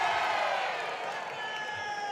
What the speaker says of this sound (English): Crowd wishing a point